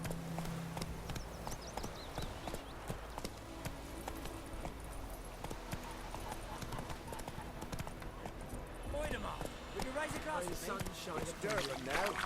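Horse galloping in The Witcher video game, heard as steady rhythmic hoofbeats that run throughout under in-game ambience, with a voice talking over it.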